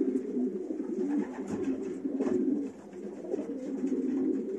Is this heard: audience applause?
no